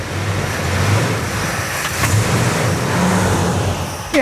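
Fully original Petty Blue Plymouth Superbird with a steady engine rumble that swells slightly midway, loud and close, with a brief sharper burst right at the end.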